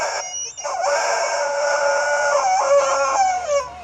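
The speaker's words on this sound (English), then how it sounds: "That's just a rubber chicken, sorry." Rubber chicken toy squeezed to make a long, honking squeal with a couple of pitch dips, loud and close, lasting a few seconds with no talking over it.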